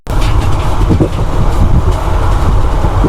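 The Mysore Express, hauled by a WAP-7 electric locomotive near Birur, runs with a loud, close, continuous rumble and rattle from the moving coaches.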